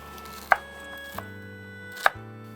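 Coriander leaves chopped with a knife on a board, giving two sharp close thuds about a second and a half apart with a lighter tap between them over a quiet steady hum.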